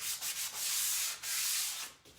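A Surf Prep sanding sponge rubs back and forth over a painted drawer in steady, close scratchy strokes with brief gaps between passes.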